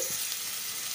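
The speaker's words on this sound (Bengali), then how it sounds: "পেঁয়াজগুলো তেলের মধ্যে দিয়ে দিয়েছি" Sliced onions fry in hot oil for a mustard fish curry, making a brief, soft, steady hiss of sizzling with no voices.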